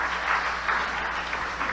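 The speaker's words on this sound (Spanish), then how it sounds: "Dale un fuerte aplauso al Señor nuevamente." A church congregation claps in a loud, dense burst of applause that continues steadily throughout.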